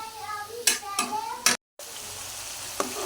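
Dried fish (shutki) frying with onions in oil in a pan, a steady close sizzle broken by a few sharp stirring scrapes and knocks, with a brief dropout midway.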